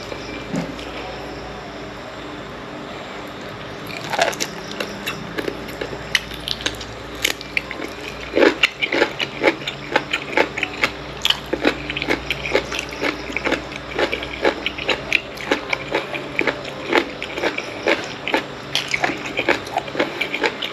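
Crisp, irregular crunches from someone biting and chewing blanched pork intestine with a seafood dip, sounding close and fairly loud over a steady background hiss, with occasional sharp clicks; no one speaks.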